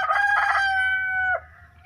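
A rooster crows once, a loud, drawn-out call with a strained, harmonic tone that trails off abruptly near the end, with nothing else around it.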